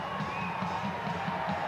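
A soccer crowd at Cashman Field in Las Vegas during a 2018 Las Vegas Lights match, a brief, fairly faint wash of cheering and shouting from a distant stadium crowd.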